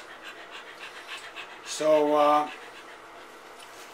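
Newborn puppies from a litter of four, one female and three males, give a brief whimpering cry with soft panting breaths, close and fairly quiet, with a person speaking briefly nearby.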